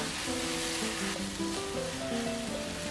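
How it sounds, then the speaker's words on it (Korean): Rinsed, drained konjac sizzles loudly and steadily in a pan of soy-based braising liquid, a dense continuous frying hiss with music playing underneath. "찬물에 헹궈 물기 뺀 곤약을 넣어줍니다."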